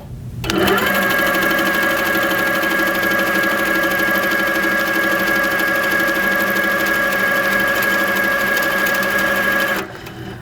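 An HQ Sweet Sixteen sewing machine stitches quilting loops in a steady, fast mechanical whir that runs loud and close for about nine seconds, starting and stopping abruptly.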